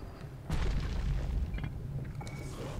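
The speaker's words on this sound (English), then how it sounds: "Throw that hand grenade." A hand grenade blows up in the action game Bastion with a single sudden loud boom, then a rumbling tail that slowly fades under faint game sounds.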